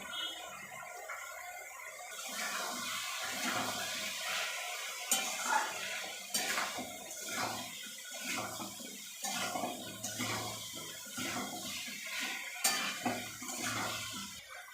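Potatoes and onions fry in a pan while a utensil stirs them, giving repeated scraping clinks against the metal over a steady low sizzle. The strokes come at a loose, regular pace and sound close.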